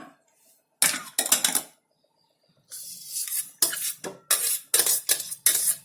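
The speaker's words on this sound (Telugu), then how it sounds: "ఉల్లిపాయలు వేసి ఇప్పుడు మిగతా అన్నం కూడా వేసేసుకోండి" Cooked basmati rice being added to a pot for aloo dum biryani, with repeated scraping and clanking of a spoon against the metal pot in short bursts and brief pauses between them.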